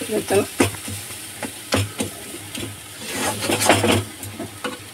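A paste of discarded vegetable peels is stirred with lemon leaves in a pan, with sizzling under repeated rhythmic scrapes and knocks of the spoon, while a voice talks in the background.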